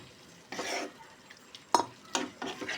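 A spoon stirs and scrapes around a pan of chicken liver curry in several short bursts, close by, with quiet pauses between strokes and no voices.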